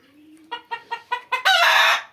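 Egyptian Fayoumi chickens at a poultry farm cluck in a quick series of five short, rising calls, then break into one loud, sustained squawk. The birds are close and clear, with no talking over them.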